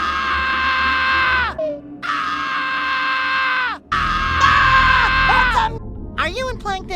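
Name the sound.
SpongeBob screaming in a SpongeBob video game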